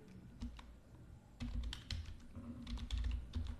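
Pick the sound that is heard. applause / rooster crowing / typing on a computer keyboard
typing on a computer keyboard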